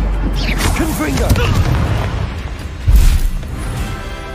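A Confringo blasting spell in Hogwarts Legacy goes off with a heavy boom and burst, landing amid ongoing spell combat effects. A voice speaks over the action.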